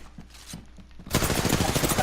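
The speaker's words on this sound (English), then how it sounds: "What was he shooting at there?" Gunfire in the video game Apex Legends: a few faint distant shots, then a sudden loud, dense burst of rapid automatic fire and impacts that continues to the end.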